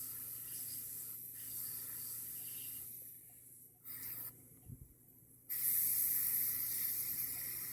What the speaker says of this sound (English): You gotta move the airbrush quicker as you get closer because it'll pool.